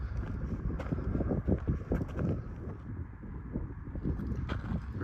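Steady wind buffets the microphone on an open high ridge in Wyoming's Great Basin, a continuous loud rush with gusty swells and no talk.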